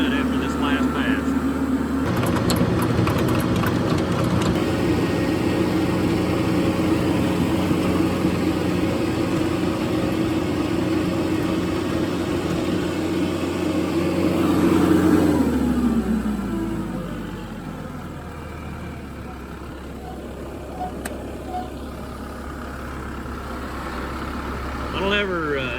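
A tractor engine runs loud and steady while tilling a food plot, its rumble rising in the middle and then settling to a lower idle-like drone, with no voices.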